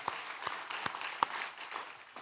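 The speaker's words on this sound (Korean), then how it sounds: "박수를 하나님께 드리겠습니다" Congregation applause during a Sunday church worship service, a dense steady patter of many hands with a few sharper individual claps standing out, moderately near and continuing throughout.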